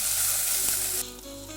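Tomato hisses in a hot oiled pan with onion and ginger-garlic paste, a loud, steady close-up sizzle that suddenly drops to a quieter fry after about a second.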